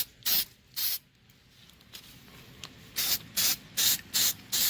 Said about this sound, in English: Go ahead and spray the inside really nice.